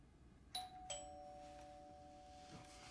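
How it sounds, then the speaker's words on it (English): A doorbell chimes indoors with two clear, ringing tones in quick succession that fade slowly over a quiet, low room hum, with no talking. "Doorbell."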